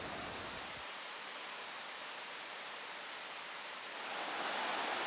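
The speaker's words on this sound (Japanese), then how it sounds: "コース上にある滝見橋からは、むかばきの滝を眺めることができます。" Mukabaki Falls on Mount Mukabaki in Nobeoka, Miyazaki, a roughly 77-metre-high, 30-metre-wide waterfall, heard from Takimi Bridge as a steady, even roar of falling water that swells slightly toward the end.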